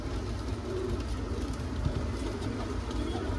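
Pure Punjabi pigeons cooing in a loft, soft repeated low throaty coos overlapping in a steady murmur, with faint background hum and no talking.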